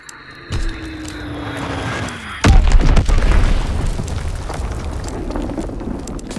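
Azon bombs explode in Call of Duty WW2 multiplayer: a falling whistle drops toward a sudden loud, deep blast that rumbles on, followed by further heavy crashing booms and debris under a dense battle din.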